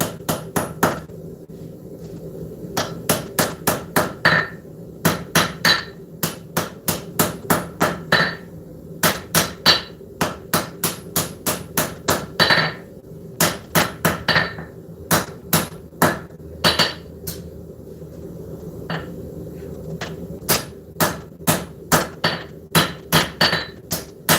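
A hammer forges the spine of a blade on an anvil in a smithing shop, ringing sharp metallic strikes landing in quick bursts and runs with brief pauses, loud and close.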